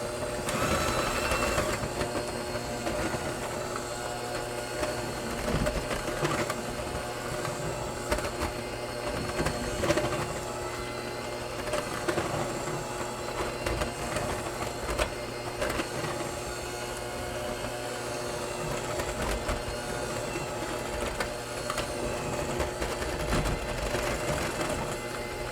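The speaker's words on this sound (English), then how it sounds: "Now start your mix off on low." An electric mixer whirs steadily on low speed, beating cake batter in a home kitchen, a continuous mechanical hum with faint rattling and no voices.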